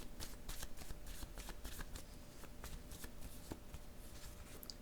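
Playing cards shuffled and drawn by hand give a close, crisp riffling and flicking in quick bursts, a series of sharp papery snaps over a faint background.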